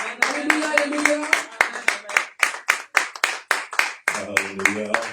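A church congregation claps steadily in rhythm to acclaim Pastor Nancy Matanguila, sharp hand claps repeating about twice a second alongside singing voices, fairly close and loud.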